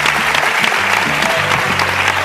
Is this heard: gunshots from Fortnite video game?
no